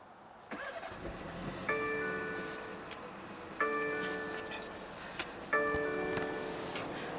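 A 2020 BMW 330i engine cranks and turns over three times in succession, each start followed by a steady idle hum, heard from inside the car.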